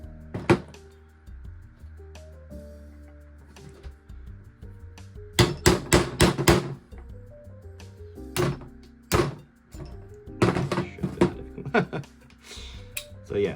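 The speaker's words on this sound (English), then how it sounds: "So if I punch out the hammer" Sharp metallic taps and knocks, in clustered bursts with pauses, as a pin punch drives out the hammer pin of a disassembled VFC V3 XM177E2 gas blowback airsoft rifle, close up on a workbench.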